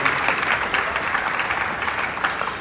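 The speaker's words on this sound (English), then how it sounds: "Yes, round of applause, everybody." A room of partners and supporters at a children's healthcare charity walk kickoff applauds steadily, a dense, even wash of clapping from a nearby crowd with no talking.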